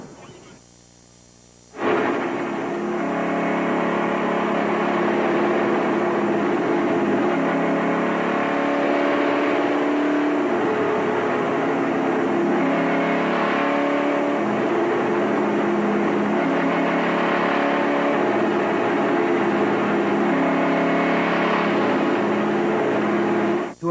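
Race cars of the 1995 ARCA Bondo Mar-Hyde Supercar Series roar loudly as the field takes the green flag, a dense continuous engine drone that swells and surges with a commentator talking over it.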